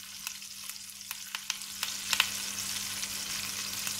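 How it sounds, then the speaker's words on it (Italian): Thyme sizzling in a hot frying pan while a pork roast with shallot sauce is cooked, giving a soft, steady frying hiss broken by small crackles and pops, close and quiet, with no talking. "invece un bel po' di timo, così, senti come sfrigola"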